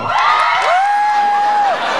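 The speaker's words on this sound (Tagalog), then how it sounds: "At sumigaw ang mga single." A live comedy audience of single people shouts and cheers, a loud sustained crowd roar with one high whooping voice rising above it for about two seconds.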